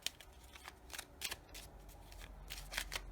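Oracle cards from a Chakra Love deck being shuffled and drawn, a soft papery riffle of brushing and flicking card sounds repeating close by for a few seconds, with no voices.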